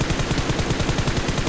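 Rapid automatic gunfire in PUBG Mobile, an even stream of close, sharp shots repeating in a steady rhythm throughout.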